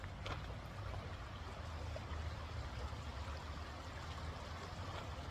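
A river flowing in a clear, shaded stream, heard as a constant even rush of water with a low rumble, steady throughout and without voices.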